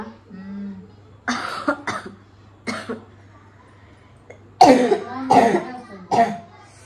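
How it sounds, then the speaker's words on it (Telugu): Several sharp, harsh coughs come in clusters with short pauses between them, over a steady low hum in a quiet room. "చాలా దగ్గు అయితే వచ్చింది"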